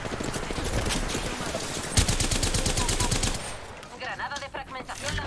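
Rapid automatic gunfire crackles in Apex Legends, a dense fusillade of sharp bursts for about three seconds, then thinner scattered shots and game effects as the shooting tapers off.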